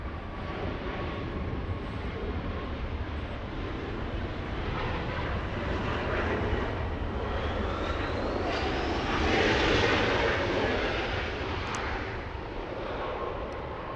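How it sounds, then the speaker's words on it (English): An Embraer jet airliner touches down at Los Angeles International Airport, a loud sustained engine roar and rushing rumble that swells toward the middle and then eases, heard from a distance with no talk. "I will get the touchdown of the Embraer."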